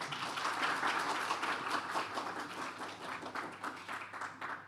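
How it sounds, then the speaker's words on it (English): An audience at an opening ceremony breaks into sustained applause, dense clapping that stays loud for several seconds and then thins slightly toward the end. "Big applause, please."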